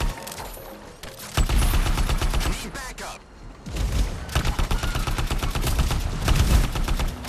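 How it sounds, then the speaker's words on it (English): Weapons fire in the Anthem video game bursts out loud and close, rapid automatic shots rattling in long runs with a short break partway, heavy booming beneath the shots, and someone talks in places. "I'm shooting at it."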